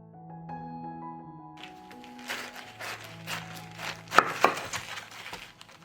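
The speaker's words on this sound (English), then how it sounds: "I have red cabbage here and I'm going to cut it in half" A knife cuts through a red cabbage, with a run of dull crunchy cuts and two sharper cracks near the end, after a few seconds of soft background music.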